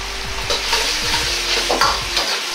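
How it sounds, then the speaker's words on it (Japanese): Ladle stirring cornstarch slurry into a boiling, bubbling sauce, with repeated scraping strokes over a steady sizzle and simmer close by. "お玉でよくかき混ぜます"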